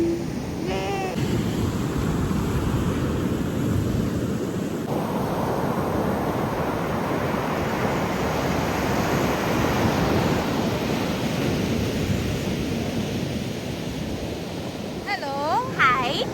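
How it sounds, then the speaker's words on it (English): Ocean waves break and wash steadily onto a beach in Colombo, Sri Lanka, a loud continuous surf roar with wind buffeting the microphone and brief voices near the end. "we are at the beach enjoying the waves"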